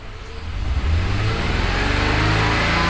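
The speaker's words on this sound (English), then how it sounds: "That's the rough idle problem." A BMW 330ci engine runs with a rough, misfiring idle, a loud, steady rumble close to the mic that fluctuates unevenly throughout, with no talking.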